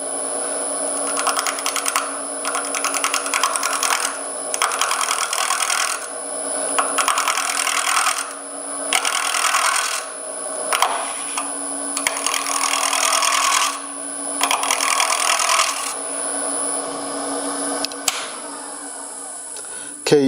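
A wood lathe spins at high speed turning a small, soft-wood bottle stopper, giving a steady high-pitched whine with a sustained hum beneath. Bursts of scraping and rasping rise and fall as the tool cuts, with gaps between passes.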